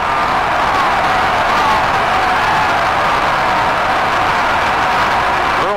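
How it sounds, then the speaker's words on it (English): A large stadium crowd roars steadily at a college football game, urging the Ohio State Buckeyes to go for it, a dense, continuous wall of distant cheering with no single voice standing out. "Now the crowd will again cheer for the Buckeyes to go for it"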